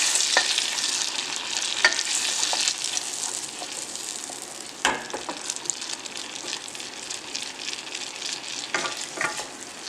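Garlic frying in butter that is browning toward burnt in a pan for a herb chicken sauce, a close, steady hiss and sizzle with occasional louder spits and stirring scrapes.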